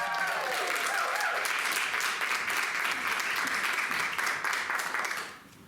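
A theater audience at an adventure serial show gives a big round of applause, a loud, dense burst of clapping that holds steady for several seconds and then tapers off quickly at the end.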